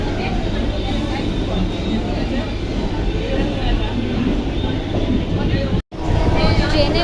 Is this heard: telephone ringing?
no